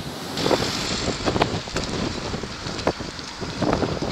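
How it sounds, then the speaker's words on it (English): Strong wind buffeting a microphone in a seaside marina after rough seas, a loud continuous roar with gusty surges and no voices. "It was still windy in the marina,"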